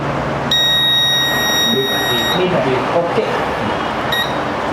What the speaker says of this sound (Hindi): दो बार बीप आना चाहिए